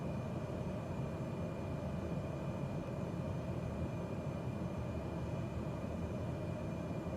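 Steady aircraft engine drone from a simulated airliner on instrument approach in Microsoft Flight Simulator 2020, a continuous even hum with no talk over it.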